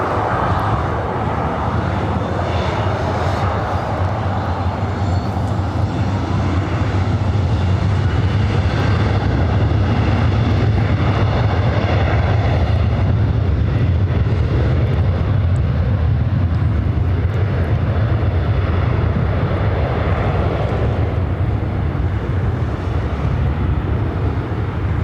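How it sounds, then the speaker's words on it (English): Southwest Airlines Boeing 737 rolling down runway 24 Right at LAX, a loud, sustained jet engine roar with deep low rumble building steadily and holding for the full stretch, with no voices over it. "Rolling it down 24 right, Southwest Airlines flight"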